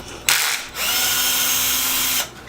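A power drill spins in one continuous whine of about two seconds, backing screws out of the skid plate on a Traxxas UDR RC truck, loud and close, starting and stopping abruptly.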